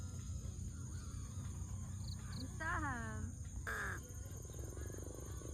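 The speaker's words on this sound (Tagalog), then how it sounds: "Mga uwak, guys." Several harsh crow caws ring out at a moderate distance over a steady outdoor hum of insects and wind, with a few other bird calls nearby, on Mt. Gulugod Baboy.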